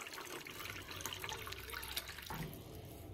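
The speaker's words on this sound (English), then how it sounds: "Now we start by putting just water into the pot." Water from a countertop water dispenser pours steadily into a cooking pot in a home kitchen, a continuous close splashing stream lasting a few seconds.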